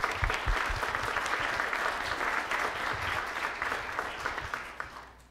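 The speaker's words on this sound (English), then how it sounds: "If we can give a hand of applause." Applause from a university lecture audience after a geoscience talk, a dense, even wash of clapping sustained through the clip and fading slightly at the end, moderately distant, with faint low thumps beneath.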